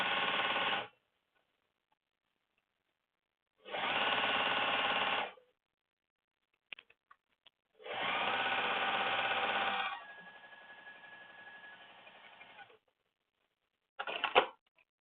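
A sewing machine stitches a leather tote in short bursts. The first two runs last a second or so each, and a longer run drops to a slower hum before stopping. Clicks fall between the bursts, with a final brief burst at the end.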